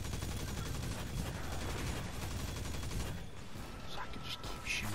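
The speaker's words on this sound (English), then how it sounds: "So I can just keep shooting." Rapid automatic weapon fire from the video game Destiny 2, a steady dense stream of shots that keeps going without pause, then tapers off near the end.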